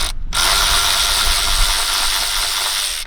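A ratchet wrench loosens 10mm bolts on a Mini Cooper engine bay, a loud, steady mechanical clicking that runs almost continuously, close up, with no talk.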